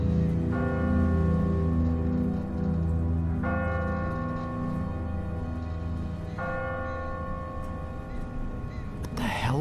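Church bell tolling from a bell tower in The Walking Dead game: three loud, slow, resonant strikes spaced about three seconds apart, each ringing out and decaying, close and dominant.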